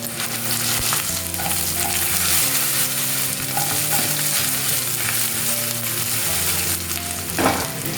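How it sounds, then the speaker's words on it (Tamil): Raw banana pieces stir-frying in a kadai, loud continuous sizzle with frequent stirring and tossing, the pieces browning at the edges; no voices. "ஸோ 2 நிமிஷத்துக்கு ஒரு தடவை நம்ம இந்த மாதிரி கிளறி விட்டுக்கலாம்."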